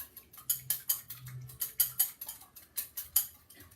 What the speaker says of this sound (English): I'm going to go ahead and whisk the eggs